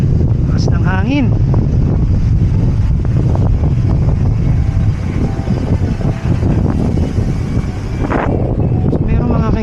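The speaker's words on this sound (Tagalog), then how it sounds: "Mas ng hangin." Heavy wind buffets the microphone at a hilltop overlook in Antipolo, Rizal, Philippines throughout, a loud continuous rumble with gusty fluctuations; faint voices are partly buried beneath it.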